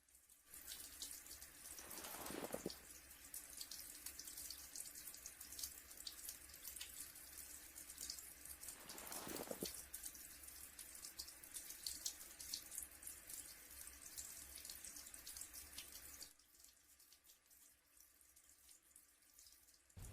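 Cold water gushes steadily from a tap during wudu washing, a loud continuous splashing stream with two brief louder surges, then softer flow near the end.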